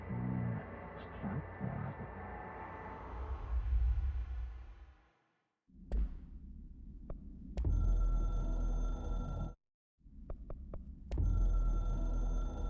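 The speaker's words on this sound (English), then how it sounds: "I can hear the hotline ringing in my dreams" A hotline telephone ringing in the game Control, heard as repeated bursts of a bright electronic ring separated by short silences, preceded by a low droning throb.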